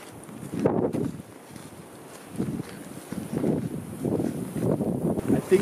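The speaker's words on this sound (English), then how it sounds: "It's really windy now, and we have the lake just here" Strong wind blowing outdoors beside a lake in sub-freezing weather, gusty buffeting and rumbling against the microphone in uneven surges that grow toward the end, with no voices.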